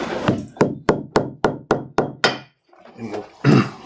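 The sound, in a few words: hammer tapping leather lace down on a piece of granite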